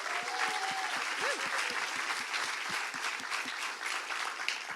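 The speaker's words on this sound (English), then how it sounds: "If we can give them a round of applause." Sustained applause from an audience at an innovators program demo day, dense steady clapping throughout with a faint voice briefly audible early on.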